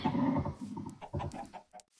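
A video game chicken gives several short clucking bursts in a quick, uneven series, moderately loud and fairly close, with nothing else around them.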